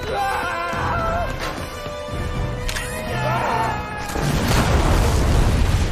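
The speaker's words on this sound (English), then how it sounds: "explodează vesta" A Halo 4 explosive vest goes off with a heavy boom and crash that swells into a broad roar at the end, following tonal game sounds.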